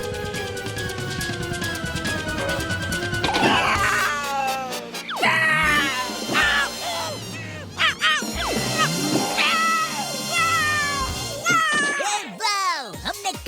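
Kaliya, an animated cartoon cat, yowls and caterwauls while being chased away, long wavering meows that swoop up and down, loud and mixed with other shouting voices and effects.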